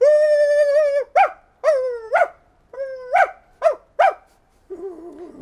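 A dog lets out long whining cries broken by sharp yipping barks, close and loud, alternating in an uneven rhythm before a lower, softer whine at the end.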